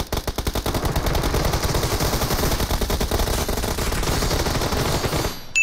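Sustained rapid gunfire fills PUBG Mobile, a dense continuous automatic barrage with heavy low rumble running unbroken for several seconds before cutting off abruptly, loud and close, no voices.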